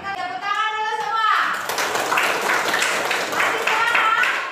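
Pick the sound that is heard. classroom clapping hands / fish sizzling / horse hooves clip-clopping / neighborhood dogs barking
classroom clapping hands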